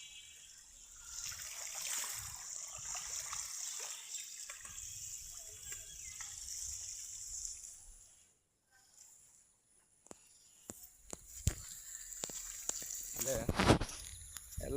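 Rainwater flows along the ground: a steady rushing trickle that fades and returns, then picks up into closer, sharper splashes and gurgles toward the end.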